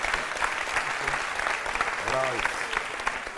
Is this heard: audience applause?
yes